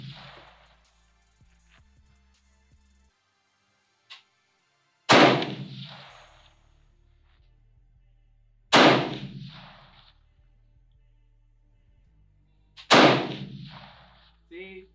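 Riley Defense RAK47 rifle fired outdoors, three loud single shots several seconds apart, each with a ringing decay, and quiet gaps between.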